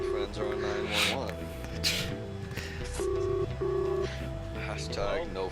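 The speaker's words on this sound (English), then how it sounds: "I apparently have to use the phone to call our friends." Telephone dialing tones inside a Ben Jordan video game, a run of short keypad beeps in uneven bursts with game music and sound effects behind them and a voice talking throughout.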